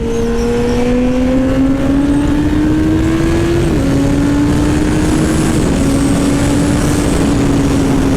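A sport motorcycle engine accelerates hard in second gear, a loud, close, continuous roar whose pitch climbs steadily, dips briefly at a shift-like drop midway, then keeps rising.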